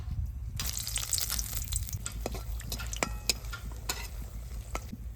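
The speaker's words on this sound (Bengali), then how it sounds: "তেল গরম হয়ে গেছে এবার শুকনো লঙ্কা তেজপাতা দিয়ে দেবো তেলের মধ্যে" Dried red chillies and bay leaves drop into hot oil for khichuri and start frying with a steady close sizzle. Stirring clinks and scrapes sound over the top, with no voices.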